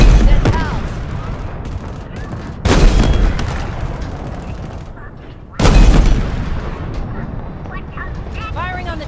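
Two heavy tank cannon blasts in Halo Infinite, booming at about 2.7 and 5.6 seconds over a continuous din of gunfire, explosions and combat noise, with voices talking throughout.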